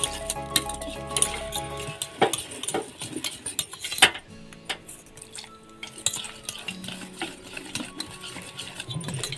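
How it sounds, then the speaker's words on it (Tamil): A Mysore pak mixture with ghee being stirred in a pan, with frequent metallic clinks and scrapes of a spoon against the vessel in an uneven rhythm, close and moderately quiet, with no talking. "நல்லா மிக்ஸ் பண்ணணும் கட்டி ஆகாமல்."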